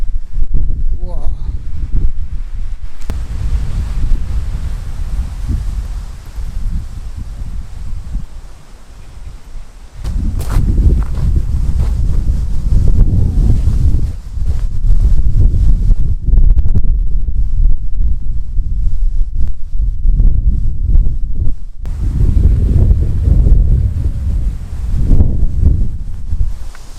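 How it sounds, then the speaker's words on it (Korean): Strong gusts of wind batter a campsite during heavy rain, a loud, roaring rumble that surges and dips over nearly half a minute, with occasional speech in between. "지금 바람 엄청 불어요"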